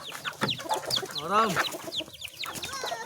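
Chickens cluck in bursts as they are fed at a backyard coop with banana-leaf wrapping, close by, mixed with a few quick calls and someone talking over them.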